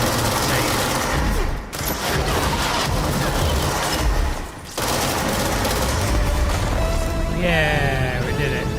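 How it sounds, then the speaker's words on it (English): Retro 8-bit fireworks in the game Control burst as a loud, dense, continuous barrage of crackling pops. Two brief dropouts break the barrage, and a few chirpy tones rise near the end. "With the 8-bit fireworks."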